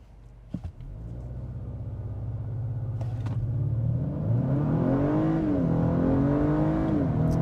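A 2025 Acura RDX A-Spec launches hard from a brake-torqued start in sport mode, its engine note climbing steadily with quick upshifts from the 10-speed transmission, loud and close with no talking.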